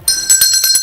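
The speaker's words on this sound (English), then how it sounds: "ringing a bell for her." A bell rings with a bright, metallic sustained tone, struck a few times in quick succession within under a second, close and fairly loud.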